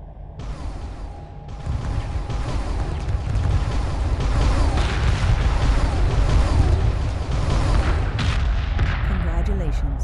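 Dense gunfire and booming weapon blasts in the space strategy game Homeworld, a loud continuous barrage with mechanical clatter, underneath a voice speaking.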